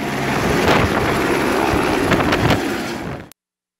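A rescue helicopter in Brazil keeps up a steady, loud rotor and engine roar with wind buffeting, unbroken until the sound cuts off abruptly.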